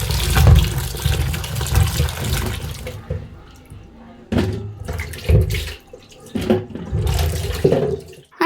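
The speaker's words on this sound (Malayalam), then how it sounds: "നമുക്കിത് പോയി ഒന്ന് കഴുകി വൃത്തിയാക്കി അരിഞ്ഞെടുക്കാം" Tap water running and splashing while ivy gourd (kovakka) is washed in a kitchen sink, loud at first, then broken into short gushes with quieter gaps in between.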